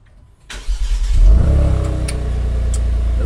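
A 2022 Genesis G70 starts up nearby, the starter catching into a loud rev and then settling to a steady, throbbing idle through the exhaust.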